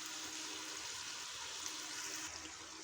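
Water is poured into a pot of chicken yakhni broth, a faint steady trickling and splashing that runs continuously without pause, with no voices over it.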